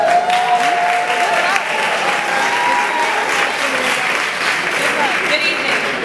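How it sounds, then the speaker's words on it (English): Loud, sustained applause from a large audience at an awards ceremony for models, a continuous wash of clapping with a faint voice under it, steady for about six seconds. "Please give a warm round of applause for the Model of the Year presenter, Stephanie from Charity for Models."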